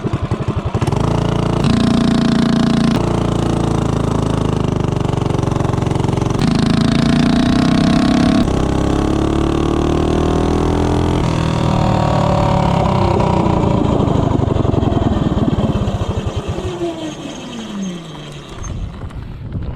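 A Tillotson 212 small engine with a 24mm flat-slide carburetor and a 3-inch intake pulls hard from a standstill toward 30, its loud, buzzing note climbing steadily in pitch. It holds near full throttle, then eases off and fades toward the end.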